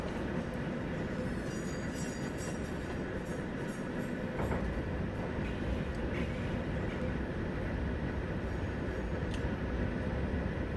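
A train in Train Simulator 2019, a Class 91 on the East Coast Main Line, rumbling steadily and loudly throughout with a constant rolling drone and occasional faint clicks of wheels on track.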